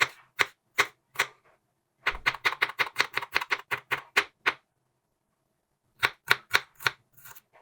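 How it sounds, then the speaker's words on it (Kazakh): Garlic cloves being chopped with a knife on a board: crisp, rapid knife strikes in quick bursts, a short pair, then a fast run of about a dozen, a pause, and a final cluster, close and dry with no talk. "Төрт-бес тал чеснок, sarımsak тураймыз."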